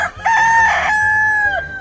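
A rooster crows once, loud and close, a long sustained call that rises into a brief harsh burst and then holds steady before trailing off, with no talk over it.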